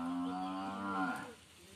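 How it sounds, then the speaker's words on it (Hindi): A buffalo gives one long, deep moo, close and loud, for about a second before it trails off into quiet; no voices. "और भैंस का आवाज तो काफी आता होगा"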